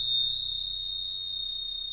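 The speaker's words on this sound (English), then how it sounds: "they both have two different tones, so they're kind of a binaural beat type of action." Steady pure electronic tones with a faint low hum beneath, two close pitches sustained evenly for the full two seconds and beating gently against each other, with no voices.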